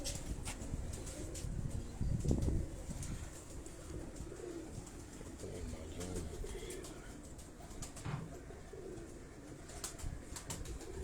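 Pigeons cooing in a breeder's loft in Karachi, kept by a pigeon breeder and flyer, with a soft, continuous murmur of low coos that stays steady and fairly close throughout.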